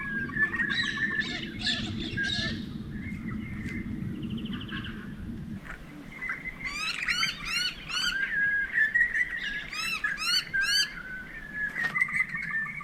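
Birdsong at sunrise in the Australian bush of Murray-Sunset National Park on a still, windless, cold morning: repeated bright chirps and trilled phrases from several birds, near and clear, over a low rumbling background that fades partway through.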